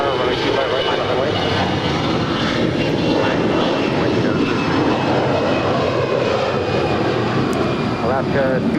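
A jet airliner takes off from runway 25 right at Los Angeles International Airport, a loud, steady engine roar filling the whole stretch with voices faintly underneath.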